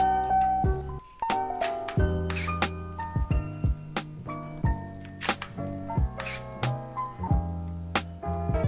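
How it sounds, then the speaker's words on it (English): An early-2000s Leica Digilux 3 digital camera shutter fires repeatedly in irregular bursts of sharp mechanical clicks and whirs, close up, with a faint hum in the background. "So that's the sound of a Leica camera of the early 2000s shooting"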